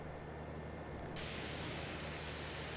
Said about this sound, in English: I'm spraying the wheel. The wheel is getting cleaner.